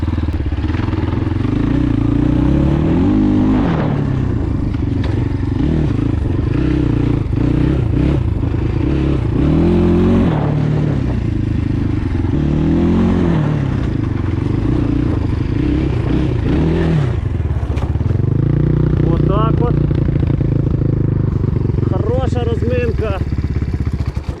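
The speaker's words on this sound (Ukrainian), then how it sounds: "Катаємося, привикаємо до мотоцикла." A motorcycle engine, a Kovi Max 300 or Lite 250, runs close by, rising and falling as it revs and slows repeatedly, with occasional clatter and a voice talking over it.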